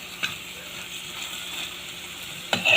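Cassava leaves and labahita fish frying in oil in a pan, a steady soft sizzle with a couple of sharper scrapes and clatters from stirring near the start and end.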